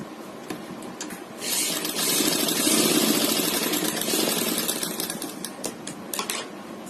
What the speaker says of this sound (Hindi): ऐसे बराबर करके यहाँ भी सिलाई लगा लेंगे।